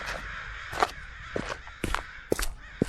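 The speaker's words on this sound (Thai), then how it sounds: "โอ้ยเสียงอีกาดังมากเลย" Several loud crows caw in short, harsh bursts, some close and some farther off, spaced irregularly over steady outdoor background noise.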